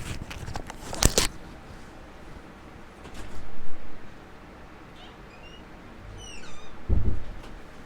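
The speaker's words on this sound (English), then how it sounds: "I just had to let a kitty cat out of the room" A cat gives a few soft, faint meows indoors, spread out between a sharp bump and some quiet rustling, with no one speaking.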